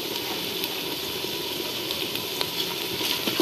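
Onions and whole garam masala sizzle steadily in hot oil in a pan, a continuous close, bright frying hiss with small crackles and no voices.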